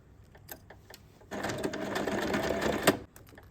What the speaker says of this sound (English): Just do a little top stitch on here and it will be all okay